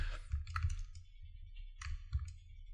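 Keyboard and mouse clicks during gameplay, picked up by a Fifine K688 microphone: a few sparse, sharp clicks and short taps in quick clusters, close and fairly quiet against a low hum.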